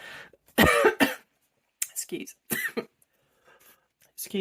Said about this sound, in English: had a little coughing fit there